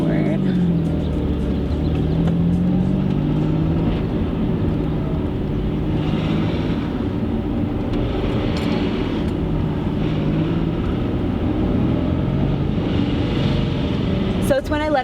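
A Nissan 350Z rolls at slow speed off the throttle, a steady engine and drivetrain drone with a faint whine running throughout, heard from inside the car.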